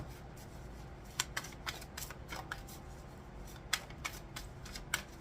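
Soft, quiet riffling and flicking of tarot cards being shuffled in short irregular bursts, close up with no talking.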